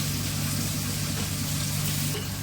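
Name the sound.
onions and green chillies frying in a pan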